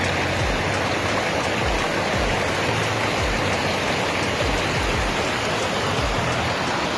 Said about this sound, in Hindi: ये सामने देखिए पिंडार नदी, जो कि पिंडारी ग्लेशियर से आ रही है।